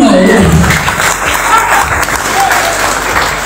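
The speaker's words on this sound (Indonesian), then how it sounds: "tepuk tangan dulu ya" Applause from an audience at a motivational business seminar, a dense burst of clapping that rises at the start and then holds steady and loud to the end.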